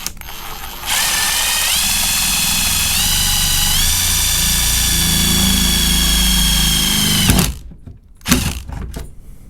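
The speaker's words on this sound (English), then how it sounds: "And I'm just gonna drill the hole straight down the middle." A power drill bores holes through the steel roof of a 1987 Chevy Caprice for a sunroof, whining steadily with rising pitch for about six seconds, then stopping, followed by a few clunks and handling noises.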